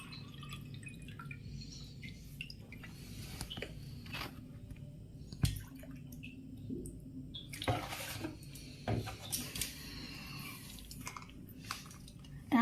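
Water trickles and drips quietly into a glass at home while a water candle is being made, with soft splashes and a few sharper taps against a low background hum.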